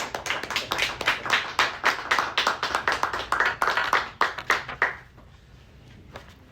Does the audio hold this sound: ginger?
no